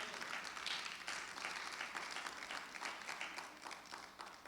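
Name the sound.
congregation applause in church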